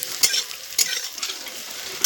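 Steady sizzling of cluster figs and taro stolons frying in a hot pan, with a few sharper bursts of crackle and spatter and no talking.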